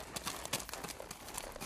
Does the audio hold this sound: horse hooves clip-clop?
yes